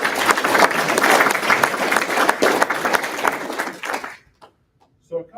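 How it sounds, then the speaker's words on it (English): Audience at a learning center graduation ceremony gives a round of applause, dense clapping with some cheering that swells, then fades out over about four seconds into near silence before a brief voice. "Let's give them one more round of applause."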